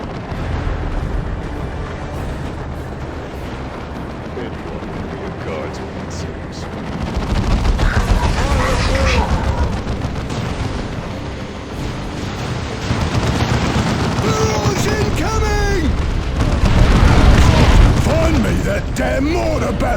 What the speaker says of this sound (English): Damn mortar battery!